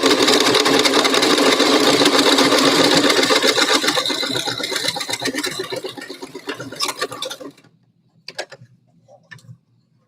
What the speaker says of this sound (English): When we stitch it, we're going to go about 1/4 inch in, or about the size of your sewing foot.